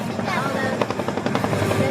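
An Apache military attack helicopter flies on a roving combat air patrol, its steady broadband rotor and engine roar continuous and loud, with faint rhythmic blade pulses running throughout.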